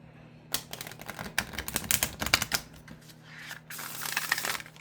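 Oracle cards on thick cardstock are riffle shuffled close up: two quick bursts of rapid, crisp flutter, the second softer than the first, in an otherwise quiet room.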